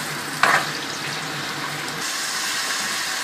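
Onions softening in oil in a home kitchen while cooking kabab curry, giving a steady, moderate sizzle and crackle with one brief louder burst near the start.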